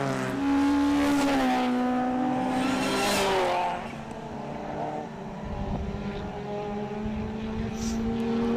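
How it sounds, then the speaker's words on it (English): Sports compact race cars, including a Renault Clio, battling at Winton Motor Raceway: loud engines rise and fall in pitch as the cars race past, first in a strong surge and then in a steadier drone. "You can see the 47 there trying to make a move and chase after Talbot"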